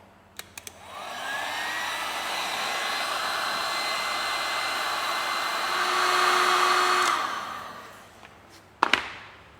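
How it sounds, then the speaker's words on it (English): Hot air gun heating a thread-locked bolt on a Ford Mondeo Mk5 2L diesel during cambelt replacement: a steady loud blowing hiss with a faint whine, swelling slightly midway and cutting off, with clunks at start and end. "I'm going to keep this hot air gun probably 1 to 2 inches away from the bolt."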